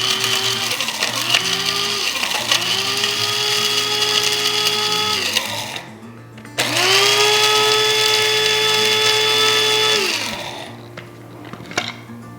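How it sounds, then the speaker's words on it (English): An electric grinder whirs loudly as it grinds dried hot peppers into powder, two sustained motor runs with pitch dipping under load, separated by a short pause, then winding down to quiet. "All right, now I'll put the rest of the peppers in there. Finish grinding it."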